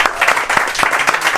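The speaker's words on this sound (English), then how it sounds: "So give King a round of applause." A small group applauds the management at a Sunday League football club gathering, with brisk, close clapping that lasts a moment.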